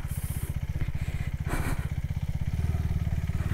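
A KTM 390 Adventure motorcycle engine throbs steadily while riding on a track, a low rhythmic putter with brief wind rush and clatter.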